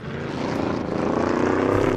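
Engine of a 1966 Ford Mustang Fastback in the Assetto Corsa racing game, a loud steady droning roar with a dense buzzing tone that holds without a break, running downhill on a touge mountain road.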